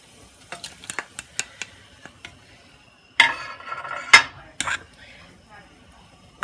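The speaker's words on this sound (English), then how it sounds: "And then you stir it again." Spoon stirring shrimp in a bubbling pot of tom yum koong, light scattered taps and clinks followed by a couple of louder scraping stirs against the pot, close by and fairly quiet.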